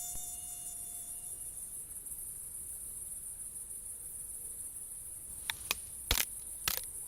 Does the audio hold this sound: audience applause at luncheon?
no